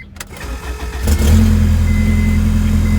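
A custom 1995 Honda Civic hatchback with a swapped K-series Honda engine cranks briefly, catches and settles into a loud, steady, deep idle close to the listener.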